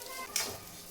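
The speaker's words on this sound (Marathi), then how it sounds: "तीळ टाकायचे आहेत। तीळ टाकायचे।" Sesame seeds tipped into a hot pan for dry roasting while making a spicy peanut chutney, giving a brief bright sizzle and hiss near the middle of a steady close crackle.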